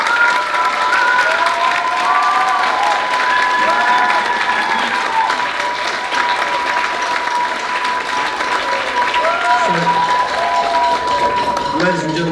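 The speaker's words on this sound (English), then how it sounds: "If we could have a massive round of applause for them." Audience applause with cheering and shouts fills a band concert hall, honouring two music teachers; dense, loud clapping continues throughout with whoops and voices rising over it.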